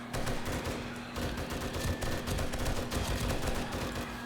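Rapid gunfire in the survival game 7 Days to Die, a dense run of repeated shots over a continuous background hum, loud and sustained throughout.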